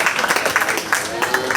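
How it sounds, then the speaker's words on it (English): Audience at a county fair 4-H cattle show claps for junior exhibitors, a brief, steady patter of applause from a crowd at moderate distance. "Let's give these two junior exhibitors a really nice round of applause."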